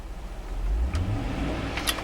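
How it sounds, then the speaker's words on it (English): A 2007 Chevrolet Suburban LTZ with a 5.3 liter V8 revs briefly, a low engine surge that swells and settles, recorded up close with a few light clicks and no talk. "I'm going to rev the engine."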